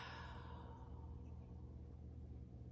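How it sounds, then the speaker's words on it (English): Someone breathes out in a slow, deep exhalation during a breathing exercise, soft and close, fading gradually over a few seconds in a quiet room. "and breathing out deeply"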